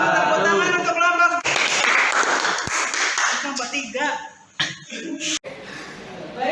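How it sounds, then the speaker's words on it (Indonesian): Brief classroom clapping for a student group, starting abruptly and fading within a few seconds, followed by a short pause and a teacher talking close by. "Tepuk tangan untuk kelompok"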